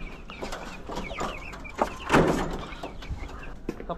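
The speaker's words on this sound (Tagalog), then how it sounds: "Dito naman tayo sa ano, sa mga nandito na mga manok ko." Chickens in a pen cluck at feeding time, with several close, overlapping clucks and squawks over a steady background hum and a sharp knock near the middle.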